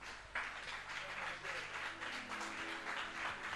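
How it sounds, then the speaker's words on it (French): A church congregation at a bilingual French-English worship service claps for several seconds in a fairly quiet, diffuse wash, with voices talking underneath. "Une acclamation pour Jésus."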